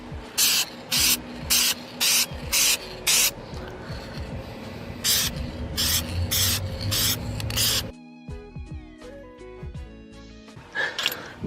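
Short bursts of spray paint hiss out in light coats over rust repair on a car, about a dozen evenly spaced passes in two groups, loud and close, with ambient noise between.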